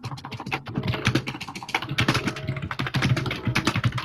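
Rapid, continuous clatter of fingers on a computer keyboard, close and loud, with dense, uneven keystrokes running through the whole stretch and no voices.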